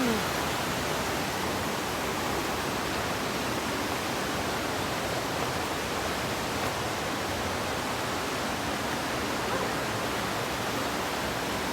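A waterfall at a tourist spot in Valencia, Negros Oriental, gives a steady, dense rushing hiss of falling water, constant and fairly loud throughout with no voices over it.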